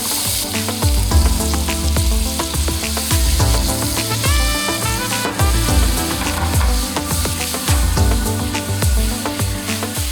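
Butter and a little olive oil heating in a pan for toasting breadcrumbs crackle and sizzle loudly and continuously, with dense popping spatter close up throughout.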